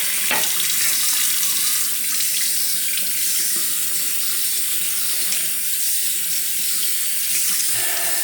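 Tap water runs steadily into a sink while a Vermont green slate honing stone is rinsed, a continuous close, loud splashing hiss with no pauses or voices.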